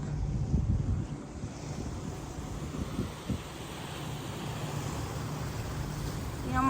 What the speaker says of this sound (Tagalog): Ayan guys, strong waves.